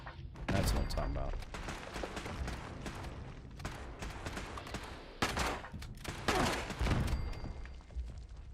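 Turrets firing in Fallout 76, repeated bursts of gunfire and thumping booms at moderate distance, with irregular volleys over several seconds and a voice talking at times beneath the shooting.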